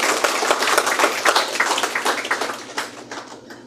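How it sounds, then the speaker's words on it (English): A short burst of applause at an education awards ceremony, many hands clapping together in a dense patter that thins out toward the end. "Can I have a round of applause, please?"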